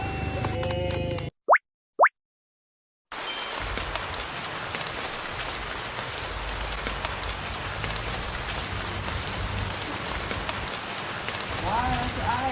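Rain falls steadily in a dense, crackling patter of drops on surfaces, loud and close, after a brief silence broken by two sharp plops, with people talking faintly nearby.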